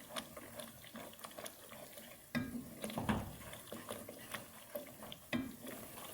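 Hyderabadi mutton paya is stirred and roasted in a pan: soft, repeated scraping strokes over a quiet background sizzle, with a few louder stirring bursts.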